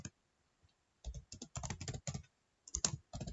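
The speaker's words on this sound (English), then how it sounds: "And then I can repeat this and I type my email" Keystrokes on a computer keyboard while an email address is entered, quiet bursts of rapid clicking separated by short pauses, close and alone with no talking.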